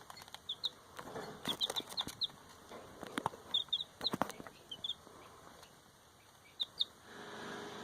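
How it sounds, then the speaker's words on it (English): Small black baby chicks peep in short, high, faint chirps, scattered in quick clusters over a quiet background with a few soft thumps. "raising those little baby black chicks"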